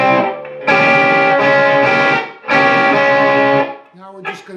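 Electric guitar playing the verse intro of a song, loud distorted chord stabs in bursts with short gaps, ending in a softer scrape.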